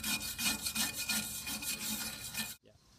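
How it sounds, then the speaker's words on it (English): A wire brush rasps rhythmically across a metal mailbox, scrubbing off loose paint in quick, close, repeated strokes that end abruptly. "We're going to take the wire brush and just get any of this loose paint off."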